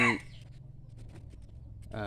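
A young Pradu Daeng fighting rooster crows in short bursts at the start and end, fairly close and loud, with low background noise between.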